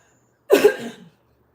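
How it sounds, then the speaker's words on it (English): A single short throat clear, close to the listener, about half a second long, with silence before and after. "excuse me, I have to just clear my throat"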